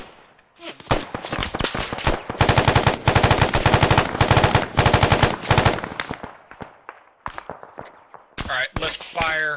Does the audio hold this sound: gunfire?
yes